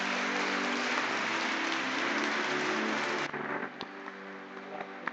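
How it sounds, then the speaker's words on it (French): Church congregation applauding during an Easter Day mass, a dense, steady wash of many hands clapping at close range for about three seconds, then thinning into scattered claps as it dies away. "Il faut les applaudir encore."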